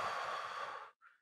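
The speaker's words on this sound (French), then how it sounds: "Une respiration." A single deep breath during a guided calming exercise, a long, close breathy exhale lasting about a second, then a short soft sigh-like puff after a brief pause, with no talking.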